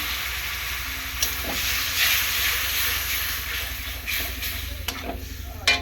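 Hot mustard paste gravy sizzles and hisses steadily as water is added, a continuous loud broadband sizzle with a few sharp spits and crackles near the end.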